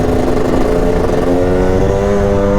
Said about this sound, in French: je découvre la moto, j'ai pas du tout l'habitude de ce genre de moto